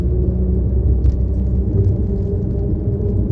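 A car crossing a very narrow bridge gives a steady, loud low rumble that continues without a break, with faint higher rattles now and then.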